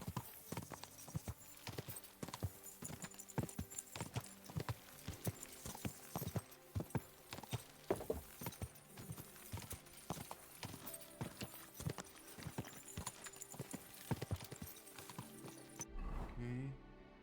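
Rapid, rhythmic hoofbeats of a galloping horse in a video game clop steadily and close for a long stretch, then stop abruptly near the end.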